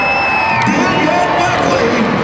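A crowd cheers and whoops at a motorcycle jump show in Billings, Montana, a loud, steady roar of voices with occasional shouts rising above it throughout.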